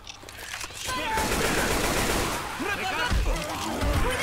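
Dense video-game gunfire in Left 4 Dead 2 rattles on for several seconds in rapid bursts, with someone speaking Spanish over the shooting.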